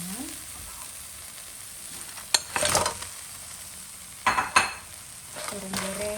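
Chicken frying in a pan with spice paste, a steady soft sizzle broken by several sharp scraping clatters of a spatula stirring against the pan, close and alone.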